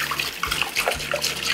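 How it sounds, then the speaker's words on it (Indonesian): Water splashes and runs briefly while something is rinsed in a kitchen sink, heard close and alone in a short burst. "Jadi tinggal dibilas lagi aja."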